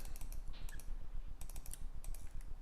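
Rapid, uneven keystrokes on a computer keyboard, tapped in short bursts at close range with brief pauses between clusters, alone without any talking.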